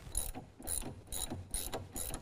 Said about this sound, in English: I'm going to use my 13mm gear wrench and then just a 13mm socket and ratchet.